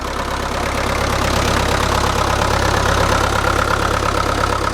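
Old Land Rover Santana diesel engine ticking over at about 900 rpm, a steady, loud, close rumble with an even clattering pulse throughout and no talk.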